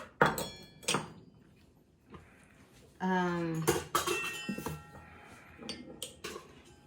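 Dry ingredients for mocha chip cookie scones are mixed in a bowl with a few close clinks and scrapes of a utensil, under intermittent talking.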